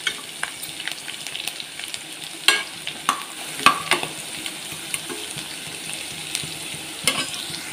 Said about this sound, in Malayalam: പച്ചമുളക് അരിഞ്ഞതും ഇട്ടൊന്ന് വഴറ്റിയെടുക്കാം.